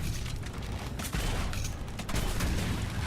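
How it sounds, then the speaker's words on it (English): Explosions and gunfire-like blasts in a busy battle from the video game Dragon Age Inquisition, dense and continuous with loud bursts throughout. "Explosions."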